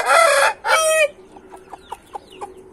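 A young rooster, still growing its tail feathers, lets out a loud two-part crow close by, followed by a series of short, sharp clucks spaced out over the next seconds.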